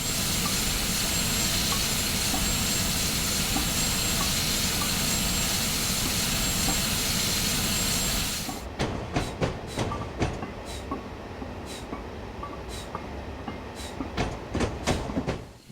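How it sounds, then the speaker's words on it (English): Pennsylvania Railroad S1 steam locomotive in the Train Simulator game: a steady loud roar of running gear for several seconds, then a sparser stretch of sharp, irregular clanking beats over a lower rumble. "I don't think the chuffing sounds are all that good,"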